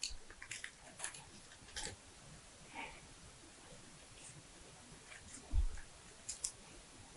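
Scissors snip paper trimmed for a handmade collage, a handful of faint, scattered crisp cuts and clicks spaced irregularly over a quiet room background.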